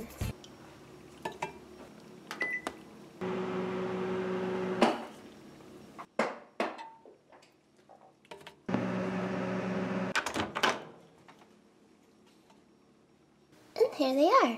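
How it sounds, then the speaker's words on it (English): A microwave oven heats two mini hamburger meal trays, giving two steady humming runs of several seconds each. Clattering kitchen handling and a closing beep come between them, and a voice is heard nearby. "And now we're going to take these 2 trays to the kitchen and microwave them."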